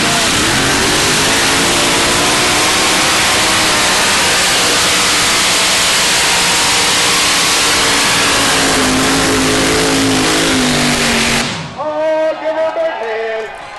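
A pulling truck with a blower-equipped engine revs at full power during a county fair truck and tractor pull, a loud sustained roar with whine that lasts over ten seconds before cutting off to quieter crowd and background noise.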